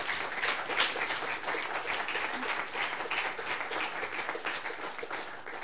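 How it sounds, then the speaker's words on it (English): Audience at a Google Summer of Code event at Debian applauds a contributor, dense steady clapping from a crowd that holds at an even level and eases slightly toward the end. "I think he deserves a special applause for that."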